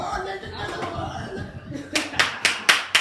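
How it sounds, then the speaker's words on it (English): Hands clapping during an interview, first murmured talk and chuckling, then a run of five or six sharp, loud, evenly spaced claps close by. "I clap on everything good."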